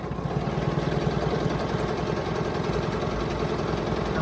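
A sewing machine quilts a block with a Westalee ruler, running at a steady rapid stitching rhythm, a continuous close mechanical hum and patter with no pauses or voices.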